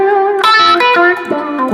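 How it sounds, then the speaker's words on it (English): Electric guitar notes and chords ringing out with a lush plate reverb tail, clean and up close, no voices. "I got a bunch of reverb on here, a bunch of plate reverb."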